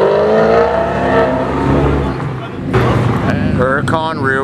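A rear-wheel-drive Lamborghini Huracan in Rosso Mars pulls away from a car meet, its engine growling and revving loudly up close, with people talking over it as it drives off.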